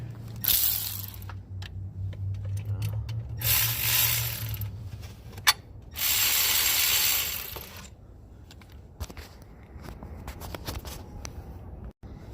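A ratchet runs bolts into a cooling fan pulley bracket, with bursts of rapid, loud, close clicking repeated several times, separated by short pauses and small metallic clinks.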